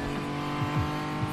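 A heavily customised James Bond car in a video game, test-driven around a circuit. Its engine drones steadily and close, with repeated rev swells rising and falling. No talking.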